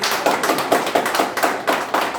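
A crowd at a farmers' meeting in Pachkhara, Jasra, Prayagraj claps for the government, a steady run of sharp, evenly spaced claps lasting a couple of seconds with no talking.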